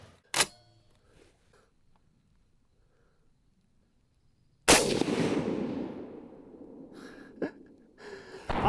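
A Springfield M1A rifle fires at a bowling pin target 300 yards out, a single sharp crack followed by a long noisy rumbling roar that slowly fades, with a few faint clicks before the shot.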